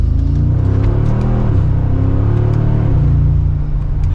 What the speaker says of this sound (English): It sounds very healthy for that V8.